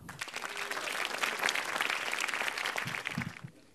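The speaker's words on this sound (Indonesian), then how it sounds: "Beri tepuk tangan yang meriah untuk Reynaldi." Applause from a comedy club audience at an open mic stand-up show, dense and steady for several seconds before tapering off, with a few brief louder bursts near the end.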